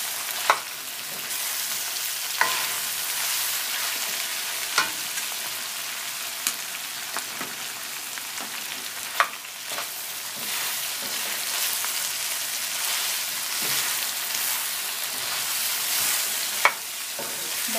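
Green onion sautéing in a pan for sausage shawarma: a bright, continuous hissing sizzle, close and steady, broken by occasional sharp spatula taps against the pan and no voices.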